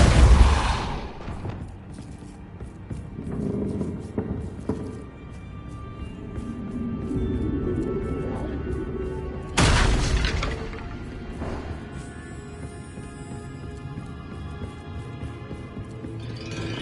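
The Depulso spell in Hogwarts Legacy lands as a deep booming blast, followed by a second heavy burst and lingering rumble amid game effects.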